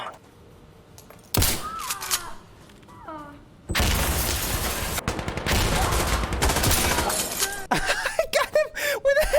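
Gunfire in the video game Insurgency: Sandstorm, an LMG among the weapons, with loud bursts and cracks that build into sustained firing, mixed with game effects and a voice talking over parts of it.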